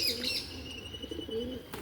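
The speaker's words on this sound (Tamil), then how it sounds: "எங்கள் வீட்டுக்கு வந்த புறாக்கள்" Pigeons calling in a rooftop garden, with soft chirps and coos over a low background hum, fairly close and steady for a brief moment, with a faint flutter near the end.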